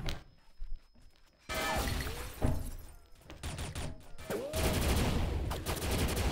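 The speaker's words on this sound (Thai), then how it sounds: "ข้างกระจกแตก" In the video game XSHOT, glass shatters loudly in a sudden crash amid bursts of gunfire, with several more breaking impacts following in quick succession.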